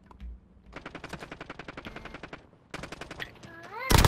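Automatic rifle fire in Modern Warfare rattles off in two fast, evenly spaced bursts of sharp shots, close and punchy, with a brief gap between them and a sudden loud blast at the end.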